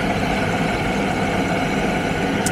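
A kitchen blender mixes tomatoes for salmorejo at speed 5, giving a steady, dense whirring drone that stays constant and fairly close for a couple of seconds.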